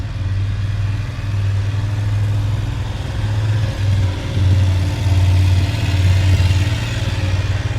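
A motorcycle putters along at low speed around a practice course, its steady mid-pitched engine hum rising and easing slightly with the throttle, close and continuous with no talking.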